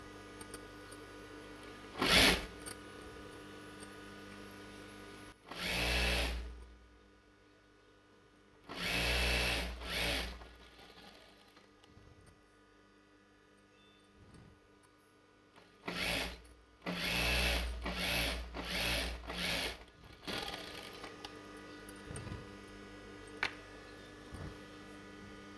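A sewing machine stitches a chudidar Patiala pant in several bursts of rapid mechanical whirring, some long and some short, separated by quiet pauses with light handling of fabric.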